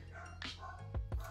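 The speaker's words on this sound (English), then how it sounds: "That's my dog." A dog gives a few short, sharp barks nearby, one early and two quick ones near the end, over a low indoor hum.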